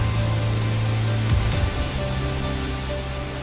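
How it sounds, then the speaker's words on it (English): Rainbow Falls roars as a steady, loud rush of falling water with a broad constant wash, with a low tonal hum that fades partway through and no speech. "Rainbow Falls is a west-facing waterfall."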